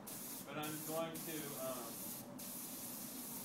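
Ceramic glaze is sprayed from a spray gun in steady close hissing bursts, with a person speaking briefly over the first part.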